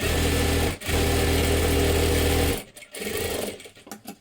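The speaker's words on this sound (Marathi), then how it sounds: "आता इथे थोडीशी शिलाई मारून घ्या इथे वरच्या बाजूला सुद्धा" A sewing machine stitches a puff sleeve in a loud, steady whirring run, stops briefly, resumes, then breaks into short stop-start bursts near the end, close and without talk.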